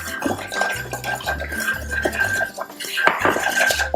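Gluten-free pizza dough being mixed in a bowl, wet ingredients stirred into dry, gives a steady run of close utensil clatter and scraping against the bowl, with no talking.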